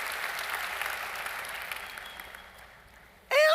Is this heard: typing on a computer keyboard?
no